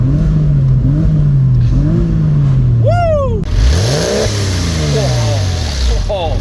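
A Porsche engine with a misting oil leak revs in a series of rising and falling bursts, close and loud, with a brief shout of excitement in the middle.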